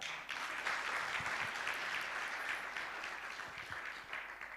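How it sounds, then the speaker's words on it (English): At the launch of a pan-African livestock disease eradication programme, a conference audience gives steady, even applause that continues without a break, heard at low volume from a distance. "Another applause for Sarah."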